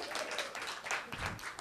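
Audience applause in a comedy club, a brief burst of clapping from a crowd that rises and falls over about a second and a half, fairly loud and dense.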